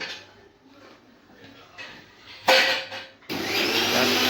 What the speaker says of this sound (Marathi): आता हे भांडं आपण मिक्सरला लावूया आणि मिक्सरला फिरवून घेऊ